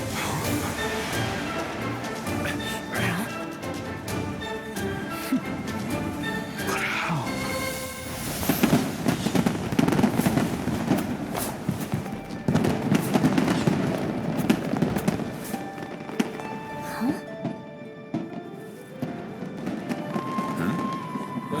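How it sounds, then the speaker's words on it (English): Fireworks go off in Genshin Impact, a dense run of bangs, crackles and fizzing bursts layered over festive game music, with someone talking at times. "Fireworks show?"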